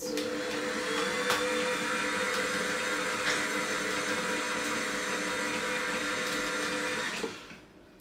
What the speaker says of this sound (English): now we're going to turn the mixer on and give it a little mix